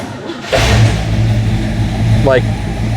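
A hot rod car engine running, likely idling with a cold engine, giving a steady low rumble throughout with voices talking nearby.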